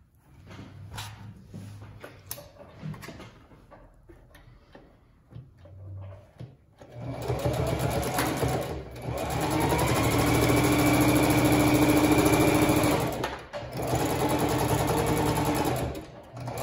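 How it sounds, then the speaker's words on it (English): A sewing machine stitches a half-inch seam along the edge of a fabric notebook cover, starting with quiet handling of the cloth, then running in steady, loud whirring bursts with a brief pause between them. "So I'm stitching with a half inch seam allowance along this edge to finish building my cover."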